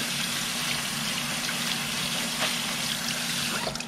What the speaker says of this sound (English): I just rinse it with cold water so that I don't want the pasta to stick together.